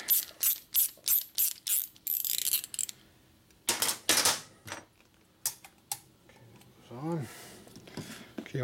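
A ratchet wrench loosening a bolt on a 1977 Harley-Davidson Sportster Ironhead 1000cc engine during a rebuild, a run of about seven rapid clicking bursts up close, then quieter clicks and a metallic squeak, with brief talk.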